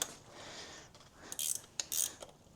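A spanner works on a rusted exhaust manifold nut of a motorcycle that has sat unused for four years. Close metallic ratcheting clicks and gritty scraping come in short bursts, with sharper clanks near the end.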